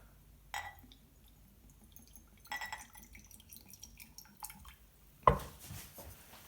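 Vinegar and oil are poured for a vinaigrette: faint liquid trickles and drips into a container in a few short, quiet bursts, ending with a brief glassy clink.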